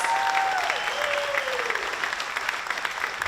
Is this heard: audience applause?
yes